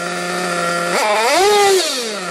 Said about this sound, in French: Je vais mettre plein gaz.